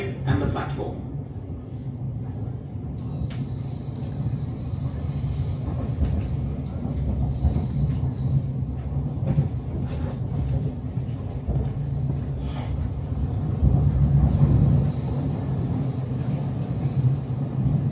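A train pulls into Shortlands station, heard from on board as a steady, loud rumble of wheels and carriage noise with scattered rattles, swelling slightly toward the end.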